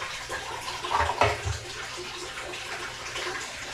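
Water drains from a motorcycle, splashing and pouring in a close, rushing stream that swells briefly before settling into a steady trickle-like wash.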